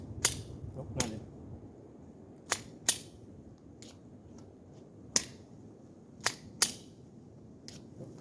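Gunshots from a Glock 43 pistol fitted with a Holosun 507K sight, heard as sharp, isolated cracks spaced irregularly over several seconds, with quiet gaps between them.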